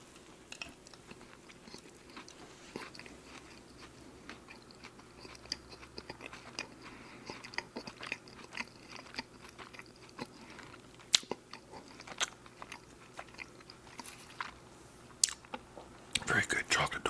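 Close, quiet chewing and biting of a chocolate donut with toasted coconut, soft crunchy clicks and moist mouth sounds repeating irregularly over a low room hum.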